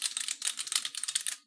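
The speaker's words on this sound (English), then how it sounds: "lovely and clicky keyboard module aside." A clicky mechanical keyboard module clatters with a quick, even run of about twenty close, crisp key clicks over a second and a half, then stops, with no voices.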